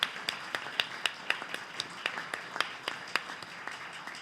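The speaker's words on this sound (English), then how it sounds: "join me in giving them applause again" Applause for panel speakers at an academic conference on slavery in the Atlantic world, heard as sparse, distinct claps from a small audience, fairly faint with irregular spacing.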